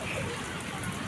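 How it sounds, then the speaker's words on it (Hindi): Heavy rain pouring in a dense, unbroken roar that fills the whole moment, steady and close with no talking. "हमारे आज बारिश बहुत तेज़ हो रही है"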